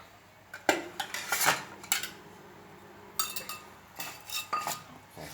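Cucumber pieces dropped into a mortar for Thai papaya salad, then clattering utensil-and-bowl knocks and scrapes in short bursts, close and moderately loud, with no talking.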